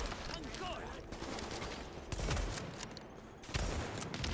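Gunfire in The Division video game, dense rapid bursts and scattered shots crackling through a busy firefight with heavy impacts, set well back.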